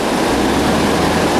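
Heavy thunderstorm rain pours onto a 2007 Ford Mustang GT, making a dense, constant broadband roar with no talking.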